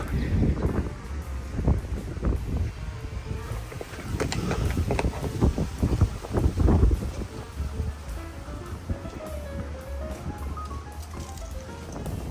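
Wind gusting down a narrow alleyway in east London near the Thames, a broad rushing roar buffeting the microphone in uneven surges, loud and close, with no talking.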